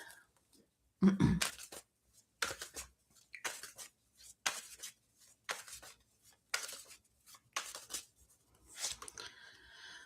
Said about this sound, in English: You saw me shuffle there.